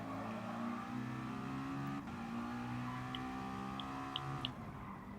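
Race car engines from Gran Turismo Sport, Gr.4 cars including a Dodge and a McLaren, drone and rev steadily in a pack, with gear-shift pitch changes and faint sharp pops, moderately quiet and without talk.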